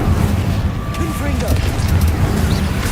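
Incendio fire spell cast in a Harry Potter video game: a steady, roaring whoosh of flame that fills the whole moment, loud and close, with a low rumbling body.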